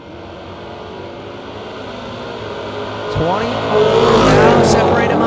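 AMC Spirit and a Camaro launching side by side at a footbrake drag race, a low idle building into a sudden loud roar of engines and rising revs midway, with crowd and announcer voices underneath.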